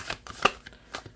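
Tarot cards being shuffled by hand, a few short, sharp riffling snaps spaced irregularly, quiet and close.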